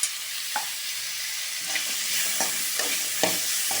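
Turkey berries frying with mashed tomato in a pan, a steady close sizzle with several soft scraping strokes of a stirring spoon.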